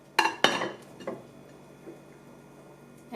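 A NutriChopper drives down on a firm cucumber, cutting thick slices: two sharp, close clacks in quick succession, then a lighter knock and a faint tap as the cutter settles.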